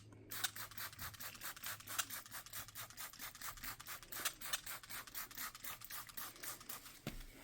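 600-grit sandpaper rubs lightly over clear coat on a 1957 MGA Coupe body, a quick rhythmic back-and-forth rasp of steady strokes, close and alone.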